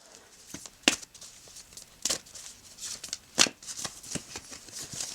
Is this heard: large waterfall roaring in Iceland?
no